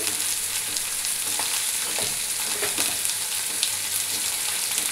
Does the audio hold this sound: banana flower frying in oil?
yes